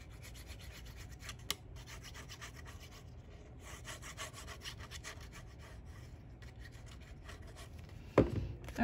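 A scored paper fold being burnished down for a mini scrapbook album, soft close rubbing and scraping strokes repeated in a steady rhythm, with a brief tap near the end, heard without talk.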